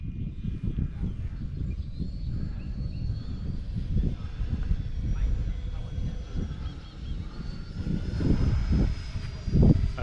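An FMS Super Hornet RC model jet makes a close flyby, its continuous whining engine roar holding steady and swelling near the end, with faint voices in the background.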